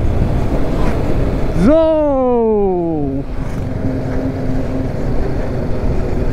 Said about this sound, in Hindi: यहाँ पे आ चुका है आंधी तूफान भाई, आप देखे तो सामने जो हवा का प्रेशर ज़्यादा फील हो रहा है अपने को भाई